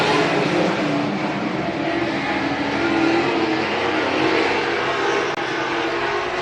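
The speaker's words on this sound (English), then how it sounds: "Now overtaking second place is the 19 from Kelly Lake, Tristan Labarge." Race cars roar around a dirt speedway oval at Hibbing during an overtaking battle, a dense, steady engine roar from several cars at once with no breaks, loud and fairly close.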